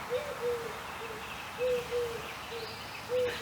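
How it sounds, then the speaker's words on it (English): Owl hooting outdoors in daytime, soft low calls repeating in short pairs at a steady unhurried pace, somewhat distant against quiet background air, with no voices. "I think it's an owl."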